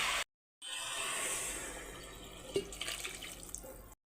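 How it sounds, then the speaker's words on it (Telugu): Water pours steadily into a pan of black-eyed pea curry mixture, a close, continuous gush with a few splashes and drips near the end and short silences at the edges. "బాగా మిక్స్ చేసుకున్న తర్వాత ఇందులోకి తగినన్ని వాటర్ పోసుకుందాం"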